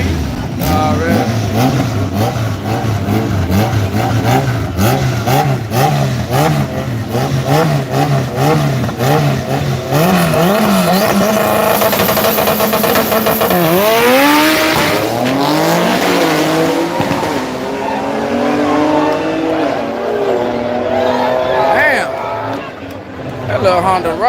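A Honda race car at a dragstrip during night runs, its engine revving and rising in pitch as it pulls away, with tire squeal near the end, loud and close, while people talk nearby.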